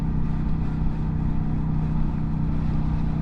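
A Kawasaki Vulcan 900 motorcycle drones loudly and steadily at freeway speed, its engine held at a constant buzzing hum under heavy road and wind noise.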